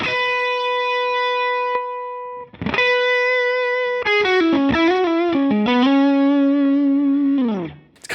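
Electric guitar through a Line 6 Helix with bias at 10, heavily distorted: sustained notes and a sliding, bending lead phrase that ends in a held note, thick and saturated with a slight chorus shimmer.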